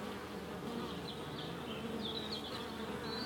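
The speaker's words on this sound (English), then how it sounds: "There's two bees there cleaning another beelet and feeding it." Honeybees buzz steadily inside an open double brood box hive, a close, continuous drone with higher whining passes from individual bees, no talking.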